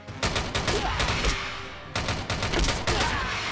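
Rapid bursts of automatic gunfire in the mobile shooter game Frontline Commando: Rivals, two loud volleys of rattling shots separated by a brief pause.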